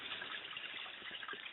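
Water running from a spigot on a 55-gallon storage barrel into a bucket in a dark basement, a steady hissing gush that continues unbroken and fairly close.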